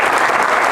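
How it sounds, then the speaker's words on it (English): Audience clapping at a stand-up comedy show, a brief loud wash of dense applause from a full room, steady and uninterrupted, with no voices on top. "Clap if you never wore a helmet."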